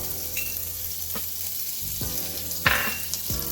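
Garlic, ginger and chilli sizzling in hot oil with whole spices for a fish biryani, a close, steady frying hiss broken by a few stirring scrapes and clinks.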